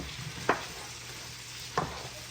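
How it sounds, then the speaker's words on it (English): Shrimp frying in a pan over a soft steady sizzle, with two sharp utensil scrapes or taps spaced about a second apart. "Fry the shrimp, eh?"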